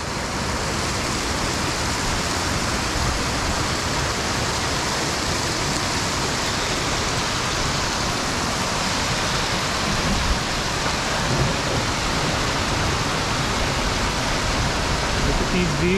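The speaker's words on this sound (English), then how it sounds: "It's pouring down" Heavy rain pours steadily in a high mountain basin at Yankee Boy Basin, a dense, continuous roar of falling water filling the whole stretch without letup.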